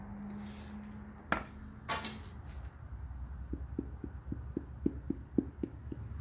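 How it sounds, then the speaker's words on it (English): Mold rubber being patted down with mica powder for a vulcanized Ned Rig mold, a quiet run of soft, evenly spaced taps in the second half after a few louder knocks, close up over low background hum. "That's the sound of me patting it down with some mica powder."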